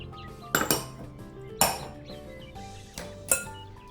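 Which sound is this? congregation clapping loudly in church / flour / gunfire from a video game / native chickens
flour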